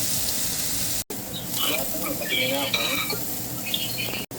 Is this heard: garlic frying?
yes